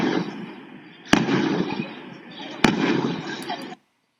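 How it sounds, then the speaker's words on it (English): Crackling bursts of New Year's firecrackers going off, with two sharp loud bangs standing out over a dense popping rumble before it cuts to silence. "Sounds of firecrackers for New Year's flooding on background."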